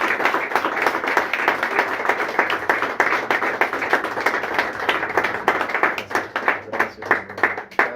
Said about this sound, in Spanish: les pido que le den un aplauso al Señor bendito